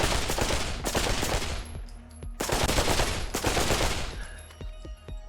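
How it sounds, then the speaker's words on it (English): A rifle fires in the VR shooter Pavlov, loud close bursts in two sustained volleys with ringing decay between them, then a few sharper single shots. "Yeah, this is a proper rifle."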